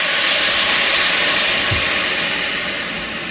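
A loud, steady hiss of steam surges from a hot pot just after chicken stock is poured in, a broad close rushing sound that fades slightly toward the end.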